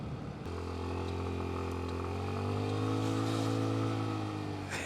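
A cheap secondhand scooter's small engine droning steadily while being ridden at around 30 mph, close and loud, pitch rising slightly mid-ride then holding before easing off.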